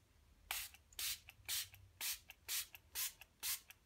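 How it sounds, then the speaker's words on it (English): Craft sealant sprayed from a hand sprayer in eight short, evenly spaced hissing bursts, each about a quarter second, close and fairly loud with quiet gaps between. "Now I'll bring out my trusty sprayer again."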